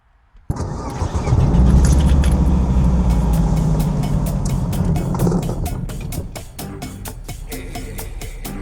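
A car engine starts up and settles into a steady low rumble as the vehicle sets off on a drive from the outskirts of Salou. Faint clicks and taps come through close by over the engine.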